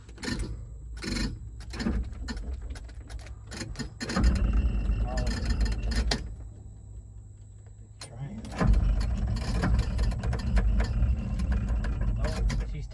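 A Massey Ferguson combine harvester engine cranks over on the key, a loud, rough churning in two bursts with a lull between, while voices talk intermittently nearby.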